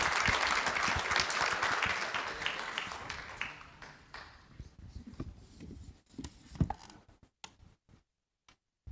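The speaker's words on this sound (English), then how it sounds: "Let's give a big hand to Mrs. Baird and those students that helped" Applause from the audience at a school board meeting, a loud burst of many hands clapping together that thins out to a few scattered claps and then fades to quiet.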